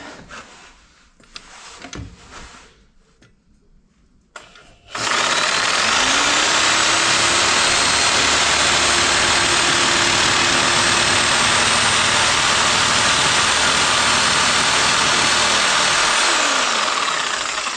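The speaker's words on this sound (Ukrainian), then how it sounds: "Будемо пробувати пиляти." A reciprocating saw cuts into an aerated concrete block, a loud, steady, continuous buzzing grind that starts abruptly after a few seconds of quieter handling noise and runs unbroken to the end.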